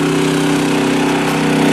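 A lawn mower engine runs steadily nearby, a loud, constant buzzing drone with no change in pace.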